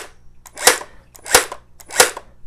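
Three sharp gel blaster shots ring out close and loud, each a crisp snap with a short decay, evenly spaced about two-thirds of a second apart; the blaster is a Gel Erupter Z toy gun set to full power.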